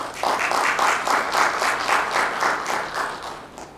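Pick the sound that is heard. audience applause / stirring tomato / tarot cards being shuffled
audience applause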